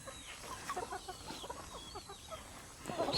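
Chickens cluck softly in short, scattered bursts at a moderate distance, with faint chirps and background noise and no talking.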